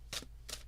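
Tarot cards being shuffled by hand, two short crisp riffling bursts about a third of a second apart, quiet and close, with no talk over them.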